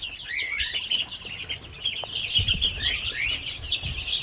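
Young chicks peep continuously in a poultry pen, a dense chorus of high chirps close by, with occasional clucks and brief wing flaps and scuffles on the ground beneath.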